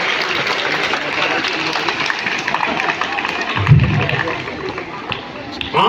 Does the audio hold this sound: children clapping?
yes